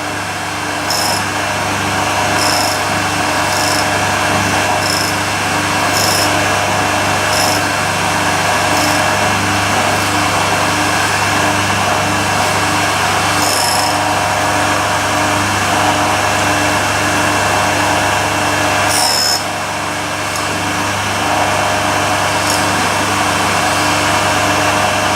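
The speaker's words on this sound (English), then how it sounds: "we'll start grinding in a more normal fashion" Power tool grinding steadily on a wobbly pole contact, a loud continuous whine with steady tonal bands and brief higher bursts, running alone without pause and dipping briefly near the end.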